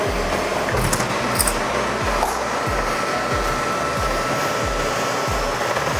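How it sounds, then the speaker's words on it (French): A bowling lane oiling machine cleaning, degreasing and oiling a lane gives off a loud, steady mechanical whir with a regular low thumping pulse about twice a second, running throughout. "On a une machine dédiée en fait qui va positionner de l'huile, qui va dégraisser, elle nettoie la piste, elle dégraisse la piste et elle pose de l'huile en même temps."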